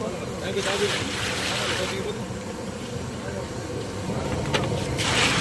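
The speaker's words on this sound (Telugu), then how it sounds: "సగం రమ్ము నీళ్ళు పోస్తున్నారండి" Water pours steadily from a tanker into a huge cooking pot meant for fifty kilos of rice at a function, a continuous rushing gush with brief surges, under occasional talk.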